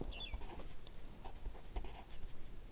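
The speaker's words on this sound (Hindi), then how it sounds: "अब यहाँ से हम लिखेंगे" Pen writing math on paper during a Class 12 maths lesson: close, soft scratchy strokes and taps in irregular bursts, quiet and alone, no talk.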